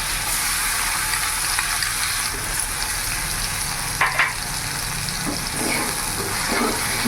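Onions fry in hot oil with ginger-garlic-chilli-onion paste added, a dense continuous sizzle close by, with a few brief stirring scrapes breaking through near the middle and end; no talking.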